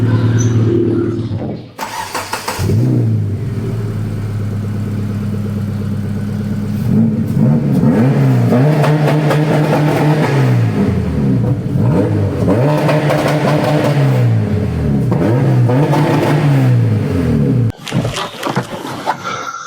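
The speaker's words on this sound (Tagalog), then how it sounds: "kung narinig nyo yung engine roll ni Blitz" A car called Blitz cranks up and its engine revs repeatedly, loud and close, rising and falling in a series of throttle swells before cutting off near the end.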